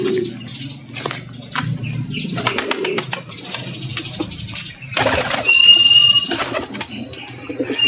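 Pigeons coo softly nearby in a loft, with bursts of wing flapping and rustling breaking in several times over a low background.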